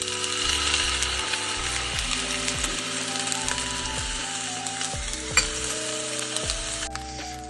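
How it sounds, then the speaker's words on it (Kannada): Rice mixed with vinegar, green chili sauce and red chili sauce being stirred in a pan, with continuous scraping and sizzling texture and repeated stirring strokes, close and steady, no talking. "ಈಗ ಇದನ್ನು ಮಿಕ್ಸ್ ಮಾಡೀನಿ."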